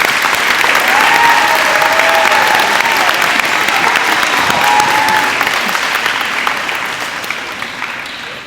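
A high school assembly audience claps loudly and steadily for several seconds, a dense crowd applause that tapers slightly toward the end, with faint voices mixed in.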